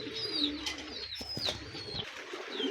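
A pigeon in a home loft coos softly and repeatedly at close range, with thin high chirps from other birds and a low steady background murmur.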